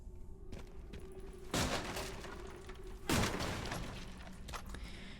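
Gunfire in the Resident Evil Requiem video game, with two loud bursts of shots about a second and a half apart over a steady low game background.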